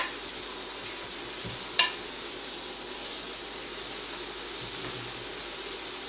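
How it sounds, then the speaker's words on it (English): A constant, bright sizzle of herring frying in a pan, with one brief clink partway through and no talking. "while the fish are frying"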